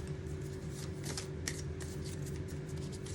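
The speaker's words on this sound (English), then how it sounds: "Let me get one of these cards here." Tarot cards being shuffled by hand, a steady close papery riffling and rustling that runs without a break, with no one talking.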